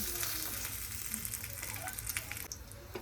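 Mutton fat deep-roasting in oil sizzles and crackles continuously at close range, with occasional stirring clinks.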